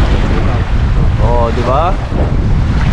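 Strong river current and waves at a fishing spot in Saskatoon, a loud continuous rushing wash with wind buffeting the microphone, as someone speaks briefly over it.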